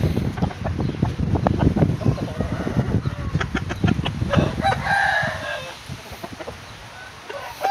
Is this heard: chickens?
yes